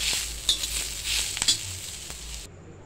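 Rassa masala sautés in a pan with a continuous close sizzle and light stirring scrapes, a few soft clinks over the top, then cuts off abruptly near the end.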